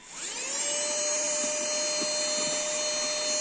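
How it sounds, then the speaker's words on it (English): Portable car vacuum cleaner whirring up to speed and then holding a steady high-pitched whine, close and loud, with faint ticks of debris being sucked in and no talking. "I'm going to demonstrate to you the vacuum cleaning"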